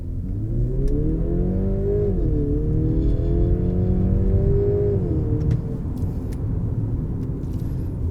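A Mercedes-Benz E350e W214 with a 2.0-litre turbocharged four-cylinder engine accelerates, its steady revving note climbing, dipping briefly and rising again, loud and close, then easing off near the end.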